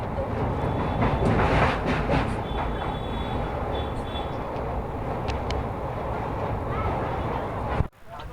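A passenger train bound for Katpadi station near Vellore rumbles steadily along the tracks, heard from inside the carriage as a continuous loud roar with faint rattles, ending in a sudden sharp drop near the close.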